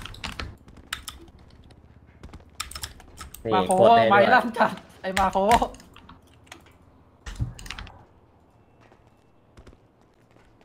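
Rapid clicking of keys on a computer keyboard, scattered sharp taps throughout, under a voice speaking loudly in the middle.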